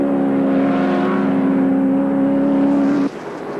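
A race car engine at the 1982 Bathurst Group C race holds a loud, steady high drone that cuts off abruptly near the end, leaving a quieter engine sound.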